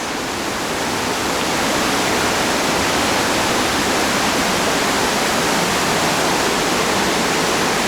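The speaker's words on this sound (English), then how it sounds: "It's very, very moist in here. Dripping from all over the walls." Steady, dense wash of water dripping and splashing from the rock walls of Partnach Gorge fills the space, constant and fairly loud, with no voices.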